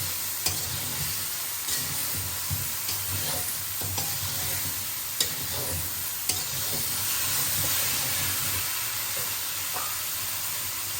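Spice paste for a cauliflower and prawn curry fries in a pan with a continuous hissing sizzle, punctuated by sharp taps and scrapes of a stirring spoon at irregular intervals.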